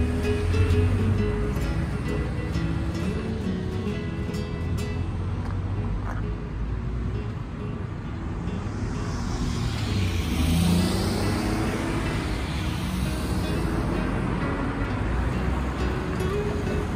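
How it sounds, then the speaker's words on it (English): Traffic rumbles continuously on a road in rural Japan, with cars passing close by one after another, the engine and tyre noise swelling as a vehicle goes past midway. "And now all these foreign cars are gonna cross."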